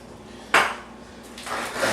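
A metal pan clanks down onto a hard surface with a sharp clatter, followed by softer scraping and handling noises nearby.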